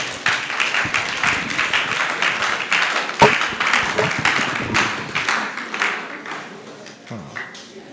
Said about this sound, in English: With a warm round of applause, let's invite Sheikh